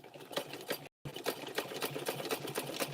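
A sewing machine runs steadily with a rapid, even stitching rhythm, close and fairly loud, broken by one brief silent gap, sewing fabric strips around rope for a handbag.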